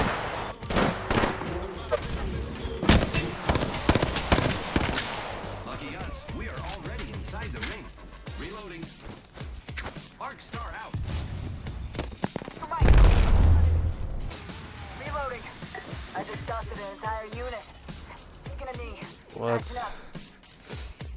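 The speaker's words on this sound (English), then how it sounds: "I'm getting shot at." Gunfire in the battle-royale game Apex Legends, bursts of shots and impacts crackling through the round, often under and between excited voices of players talking over each other.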